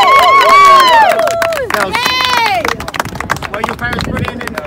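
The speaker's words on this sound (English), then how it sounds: "Can we give the girls a massive round of applause?" Children and parents at a school tag rugby tournament shriek and cheer loudly, then settle into scattered, lively clapping that carries on beneath crowd noise.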